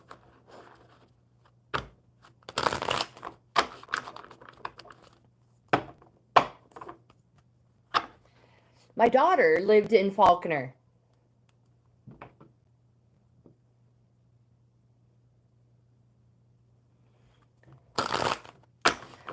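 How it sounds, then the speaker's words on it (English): Tarot cards are shuffled in a series of brief crisp riffles and taps, with quiet gaps between them, close up in a quiet room. Someone speaks briefly in the middle. "So I'm going to continue shuffling these for Amanda."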